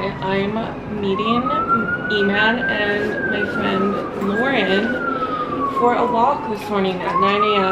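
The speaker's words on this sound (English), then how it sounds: "I'm sorry for the sirens going by." A wailing emergency siren in Vancouver sweeps up and down continuously, loud and close, while a person talks over it against steady traffic noise.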